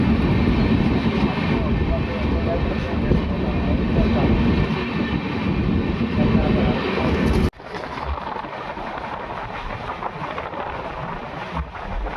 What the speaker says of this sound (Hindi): तो 130 kmph की स्पीड से ट्रेन स्किप कर रही है असलपुर जोबनेर रेलवे स्टेशन को